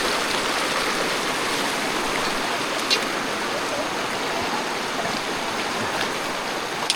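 The Bhurdi Khola stream at Lamdwali rushes nearby in a loud, unbroken wash of flowing water, steady throughout, with a couple of faint clicks.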